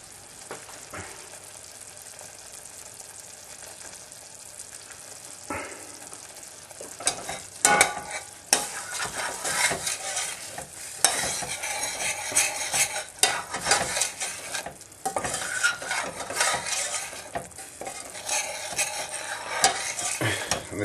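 Kashmiri masala paste simmering in a pan, a low bubbling sizzle under frequent scraping and clinking stirs of a utensil against the pan, growing busier and louder as it goes, close up with no voices.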